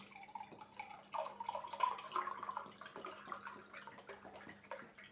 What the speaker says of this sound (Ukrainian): Що, наливаємо ще?